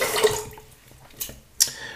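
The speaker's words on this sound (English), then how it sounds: "let me just rinse my hands a little bit, do a bit of extra lather off the brush." Running water from a tap splashes over hands being rinsed during a wet shave with a lathered brush, a close, soft wash with a few brief louder splashes, no talking.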